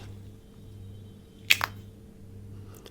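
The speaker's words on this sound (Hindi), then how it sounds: "कोई भी चिप्स आप उठा लीजिए, बिल्कुल टक से टूटेगा" Against a quiet background hum, a homemade banana chip snaps crisply, a quick sharp crack followed by a smaller second break.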